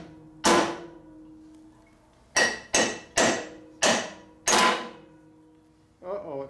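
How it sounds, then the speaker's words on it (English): A big hammer striking metal during a Harley-Davidson Shovelhead FX Super Glide motor rebuild in a barn: one sharp ringing blow, a pause, then five loud resonant strikes in quick succession, followed by a brief voice. "I like hitting stuff with big hammers."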